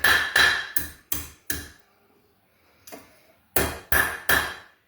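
A hammer strikes metal on a blacksmith anvil in a workshop, sharp ringing clangs close by, five quick blows, a pause with a lighter tap, then three more.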